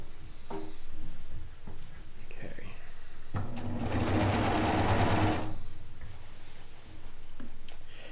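A serger stitches a quilt seam in one steady whirring burst of about two seconds, close and fairly loud, with quiet clicks and fabric handling before and after.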